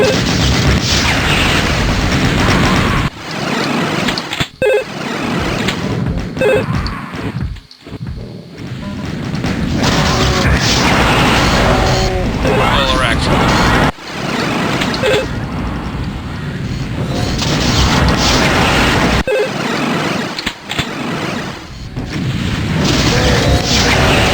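Repeated loud booming blasts of Cyberdemon rockets exploding in the Doom 2 video game, dense and continuous with crashing impacts and brief pauses between barrages.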